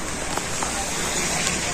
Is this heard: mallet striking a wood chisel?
no